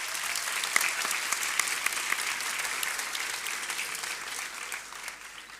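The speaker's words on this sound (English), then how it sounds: "Let's give them all a big round of applause." Steady, dense applause from a large audience at a graduation ceremony, sustained and even throughout with no speech over it.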